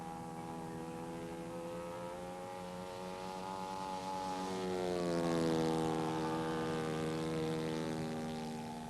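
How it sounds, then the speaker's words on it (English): Vintage radio-controlled model airplane from 1986 making a low flyby: a buzzing propeller engine whine holds steady, then rises and dips in pitch as it passes close, growing louder midway before trailing off. "we're going to bring her down for a low flyby for the camera here"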